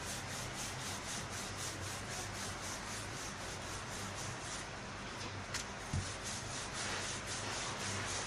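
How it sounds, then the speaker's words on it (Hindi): Besan paratha dough is rolled out with a rolling pin, giving a continuous soft rubbing, scraping swish that stays steady throughout with no pauses, close up and alone without talk. "थोड़ा सा आटा डालेंगे और फिर हम इसको बेलेंगे।"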